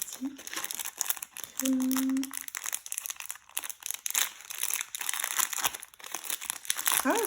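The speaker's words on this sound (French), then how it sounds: "J'arrive à ouvrir le plastique." Plastic packaging of craft rhinestones being opened, giving busy crinkling and tearing throughout, close and moderately loud, with a brief whistle-like tone partway through.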